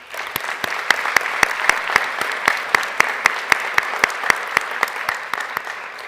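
Sustained audience applause at a school board meeting, a steady wash of many hands clapping with some sharper individual claps standing out at a fairly even rhythm, fairly loud and close throughout with no voices over it.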